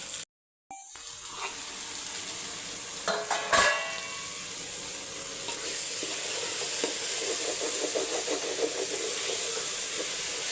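Paneer pieces roast in a little oil on a hot tawa with a steady, bright sizzle. A short clatter of utensils comes early, then continuous frying with no talk.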